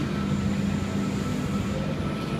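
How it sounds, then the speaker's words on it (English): A Sydney Trains V-set pulls out of platform 1 on a Central Sydney Terminal service, giving a close, steady rumble with a low electric hum. "We've got V13 now departing platform 1,"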